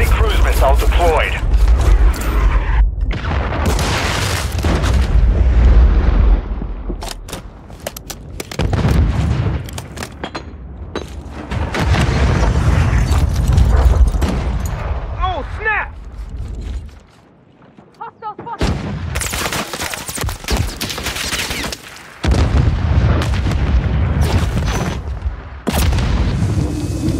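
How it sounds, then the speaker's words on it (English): Cruise missile explosions in the video game Modern Warfare 3, loud heavy booms and bursts with gunfire, some quiet gaps between, alongside voice callouts. "Friendly cruise missile deployed."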